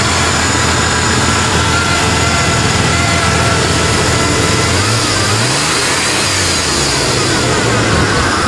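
A 1994 Chevrolet Blazer 4.3 engine idling just after a cold start, loud and close, a steady rough rumble that swells briefly as the revs rise and fall.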